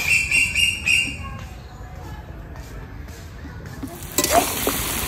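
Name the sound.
duck meat and fried potatoes frying in lots of oil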